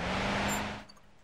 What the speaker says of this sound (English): someone's got a very loud car.